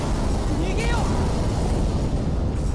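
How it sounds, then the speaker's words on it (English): Explosions in the Ultraman video game City Shrouded in Shadow, a loud, continuous roaring blast texture that fills the clip, with brief whistling game effects over it. "There is a noticeable bit of slowdown when there's explosions going on."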